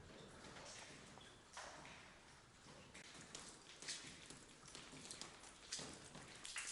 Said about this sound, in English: Yeah, this place definitely can't handle rain.